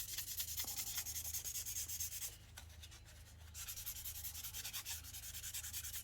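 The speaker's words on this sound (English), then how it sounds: "Now we're just going to rough up the body a little bit, give the primers something to hold on to" Hand sanding roughs up the body panel of a Pontiac Fiero before primer, a steady rasping scrub of repeated rhythmic strokes with a brief pause midway, close and alone.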